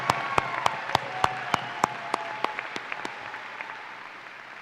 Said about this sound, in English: parents, I think we should go ahead and give them that first round of applause.